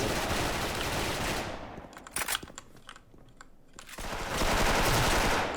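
An M4A1 rifle fires in a video game: a dense burst of gunfire, then a gap filled with sharp clicks and mechanical reload sounds, then another sustained burst.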